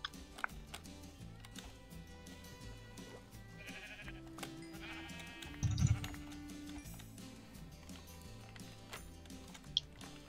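Sheep bleating in a Minecraft-style survival video game, a few short bleats over background game music and footstep clatter, moderately loud and close.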